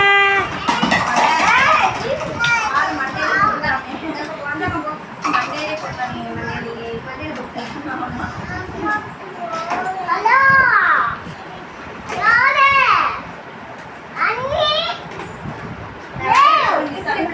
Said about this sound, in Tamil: எத்தனை பிள்ளைங்க விளையாடணும் விளையாடுங்க